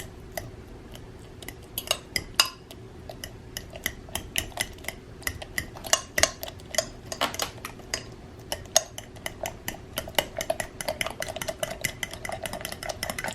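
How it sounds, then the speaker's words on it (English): A fork mashing banana and beating egg in a bowl, a quick uneven run of close metallic clicks and taps against the dish over a soft steady background, with no talking. "I get a fork and I mash the banana down and I beat the egg at the same time."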